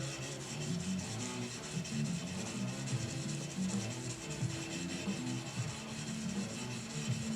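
A knife blade is rubbed by hand with sandpaper, a continuous close rasping scrape with steady back-and-forth strokes and no talk.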